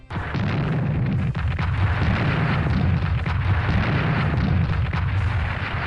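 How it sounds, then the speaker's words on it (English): Artillery barrages pound away in the WWII strategy game Strategic Command, a dense continuous rumble of overlapping booms and blasts filling the whole stretch at steady, loud intensity with no talk. "Oh, that's a lot of artillery support."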